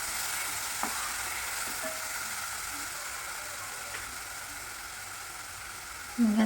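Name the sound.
stirring fried onion and chopped tomato in pan for matar paneer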